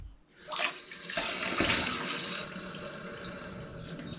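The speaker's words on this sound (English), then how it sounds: "Let's get some water flowing again." Water gushes from newly fitted, pressurised plumbing in an old cottage renovation, starting with a hiss and swelling into a strong, steady flowing rush that eases slightly toward the end.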